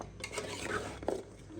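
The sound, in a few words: spoon mixing spices into beef trotters in pot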